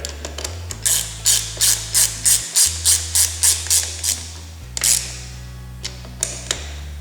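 A ratchet wrench snugs down the fork axle clamp bolts on a 1986 Honda XL600R, with a rhythmic series of about a dozen crisp, evenly spaced clicks, a short pause, then a few scattered final clicks close by.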